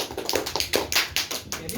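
Scattered hand claps from a classroom of students during an Islamic dress lesson, a quick irregular patter of taps lasting under two seconds, fairly close and moderately loud, with voices mixed in.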